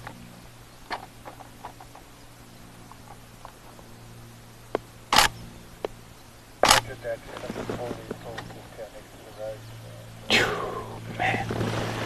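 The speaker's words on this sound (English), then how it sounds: "I do wish my camera had a slightly less noisy shutter" Two sharp mechanical camera shutter clicks, a few seconds apart, followed by a third fainter one, over quiet outdoor safari ambience with some rustling.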